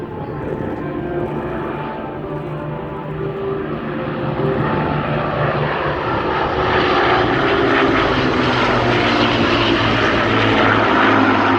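A Lancaster bomber, a propeller aircraft, flies at a seaside air show, its piston engines droning loud and close in a deep, steady roar that swells as it passes.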